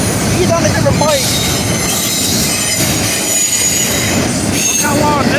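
Wheels squeal in repeated high, sliding bursts over the loud, steady roar of a long freight train passing close by at a crossing.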